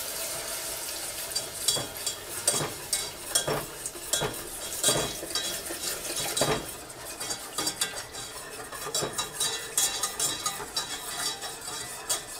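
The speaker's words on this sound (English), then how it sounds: "You got to stir it constantly." A spoon stirs milk into ham and potato soup in a pot, making repeated scraping strokes and light clinks against the metal. The sound is fairly quiet and close, with a faint simmer underneath and no talking.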